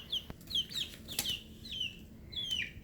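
Chickens clucking in short, scattered calls, with a brief soft flutter of wings, fairly close and without any talking.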